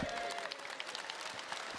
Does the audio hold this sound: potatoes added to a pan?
no